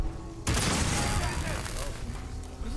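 Gunfire from the video game Fallout 4 opens abruptly with a loud burst after a quiet start, then carries on as a dense, continuous volley of shots with some speech-like sound mixed in.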